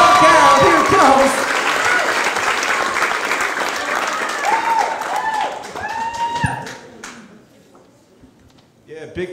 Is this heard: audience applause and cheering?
yes